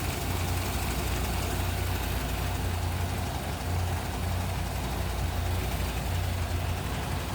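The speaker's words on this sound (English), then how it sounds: "There it is, that slant 6." A 1961 Plymouth Belvedere four-door sedan's slant-six 30D economy engine idling, a steady, smooth low rumble with a soft hum that holds even and unbroken throughout, fairly quiet and alone.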